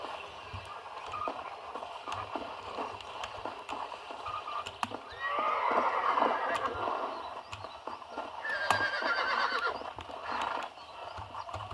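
Horse sounds in Red Dead Redemption, with hooves clip-clopping and a whinny, layered with game-like clicks and rustling over a steady background.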